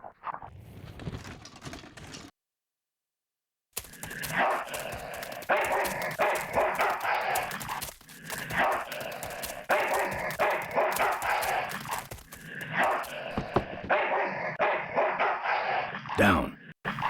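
Barking and yipping from a dog in the adventure game Full Throttle Remastered, coming in repeated loud bursts after a short silence, mixed with speech and game sounds.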